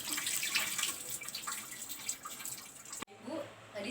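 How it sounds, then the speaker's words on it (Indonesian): Running water from a tap pours steadily over hands being rinsed after handwashing, a continuous close splashing that cuts off abruptly, leaving quieter room sound with a few faint drips. "lalu membilasnya dengan air"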